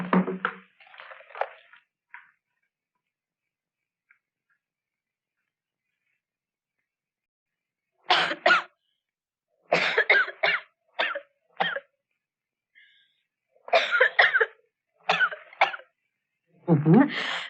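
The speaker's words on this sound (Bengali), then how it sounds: "তোমার কি খুব কাশি হয়েছে?" A person coughs a few times near the start, close by, followed by silence and then scattered speech from other voices in a film scene.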